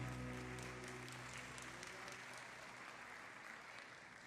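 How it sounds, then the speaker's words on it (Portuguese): A church congregation applauds in steady, dense clapping that fades slightly toward the end, heard at a distance in a large hall with no speech. "Celebre ao Senhor com um aplauso."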